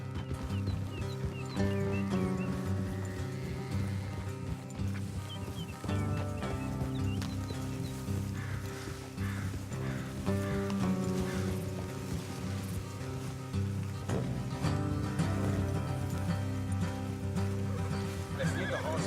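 Horses clip-clopping and whinnying in Red Dead Redemption 2, steady hoofbeats under a dense, loud game soundtrack that runs continuously.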